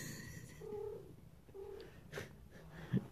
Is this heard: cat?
yes